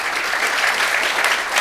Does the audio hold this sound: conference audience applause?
yes